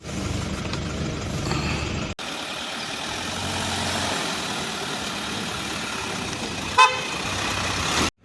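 A started car's engine runs steadily as it pulls away, a continuous close rumble with a brief cut early on and a short horn toot near the end.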